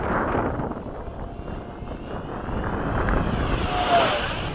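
A radio-controlled F-16 model jet makes a fast pass at the Bayside field, a rushing, breathy roar that swells toward a peak near the end amid light wind noise.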